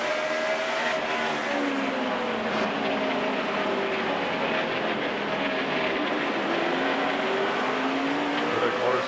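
In-car NASCAR Sprint Cup race car from the 2008 Tums Quikpak 500, its engine climbing to about 8,700 RPM and dropping back toward 5,300 in repeated loud sweeping rises and falls, close and continuous with no talk.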